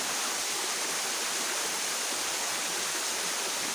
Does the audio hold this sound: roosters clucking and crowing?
no